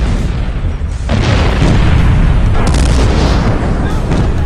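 Royal Artillery guns fire in heavy, close booms that roll into one another and leave a continuous thunderous rumble with no gaps.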